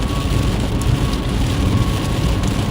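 Heavy rain from a big thunderstorm in Texas or Louisiana hisses steadily and loudly, with a dense low rumble of downpour, heard from inside a moving vehicle.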